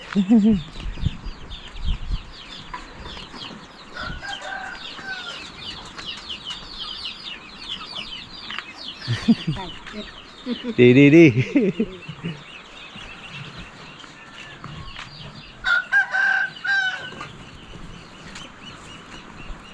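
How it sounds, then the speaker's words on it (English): Chickens clucking with a rooster crowing in a Hmong village in Laos as chicks are dug out and tossed over for daily exercise, busy overlapping bird calls with louder bursts midway and near the end. "She's digging the chicks out and throwing them over."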